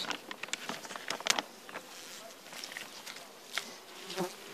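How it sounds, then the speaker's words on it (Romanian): Honeybees buzzing steadily at a strong beehive, a dense, close hum with scattered louder passes of individual bees flying near, and no talking. "acesta este ultimul stup, care este și cel mai puternic și mai frumos"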